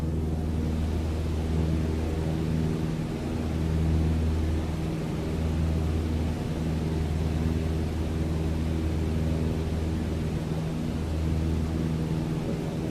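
A plane climbing in Microsoft Flight Simulator gives a steady, droning engine hum with a constant low rumble and a broad airy roar, unchanging throughout, with no talking.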